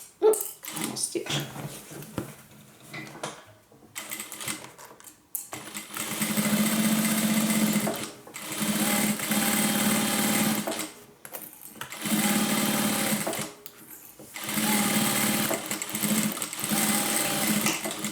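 Sewing machine stitching a crossbody handbag, running in long steady whirring bursts that stop and restart several times, with a few quieter handling noises between runs.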